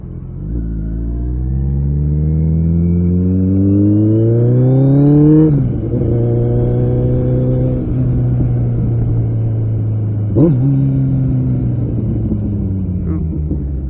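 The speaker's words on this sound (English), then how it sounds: "Forgot how loud this bike is without earplugs." A Kawasaki ZX14R motorcycle engine revs hard while being ridden: a loud, close, climbing roar that drops sharply at each gear change around the middle and again later, then holds a steady drone.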